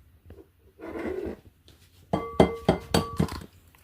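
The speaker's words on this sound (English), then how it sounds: "Next step is to crack 2 eggs into the flour." Two eggs cracked into gluten-free plain flour in a mixing bowl, heard as a close run of sharp clinks and taps, several quick knocks after a brief rustle.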